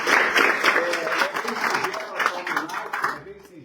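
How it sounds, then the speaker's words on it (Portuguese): Applause for radio broadcasters at a tribute event for communicators in Campo Largo, a crowd clapping steadily with voices mixed in, then fading near the end. "Uma salva de palmas aí para os nossos queridos radialistas."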